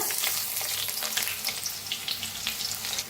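Finely chopped onion frying in hot oil with mustard seeds and cumin, giving a steady dense sizzle with light crackles and faint stirring, close and continuous.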